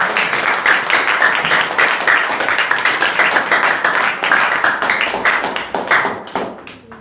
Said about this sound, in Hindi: ताली बजाओ दोनों के लिए।